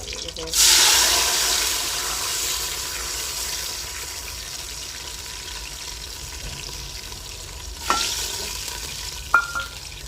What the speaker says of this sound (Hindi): अब मैं इसमें पानी ऐड करने लगी।